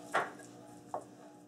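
Two crisp knife chops cutting vegetables in half on a board, close and distinct, spaced under a second apart in a quiet room.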